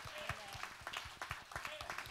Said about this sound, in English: That's a good place to clap right now.